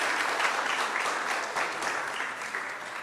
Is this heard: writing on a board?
no